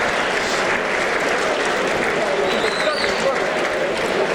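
A full-house crowd at a light heavyweight boxing bout in Saratoga Springs applauds at the end of round two, a dense, sustained clapping and cheering under a commentator's voice.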